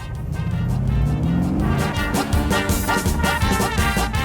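Mercedes C63 AMG V8 convertible with exhaust valves open, engine revving up as the car pulls away, then a deep burbling, crackling V8 note close and loud on a rough road.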